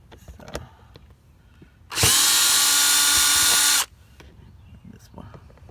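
A power drill runs in one steady, loud burst of about two seconds, backing screws out of a Honda Pilot door panel, with faint background noise before and after.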